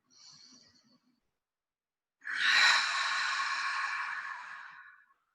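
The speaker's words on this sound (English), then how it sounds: "Force the air out through your mouth" One forceful out-breath through the mouth during a gentle yoga breathing exercise. It is close and breathy and lasts about three seconds, after a short, softer breath at the start.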